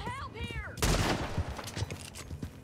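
A rapid volley of gunshots fired at a horse in Red Dead Redemption 2, loud sharp cracks in quick succession following a short voice at the start.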